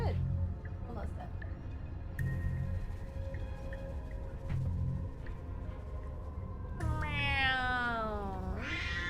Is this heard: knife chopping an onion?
no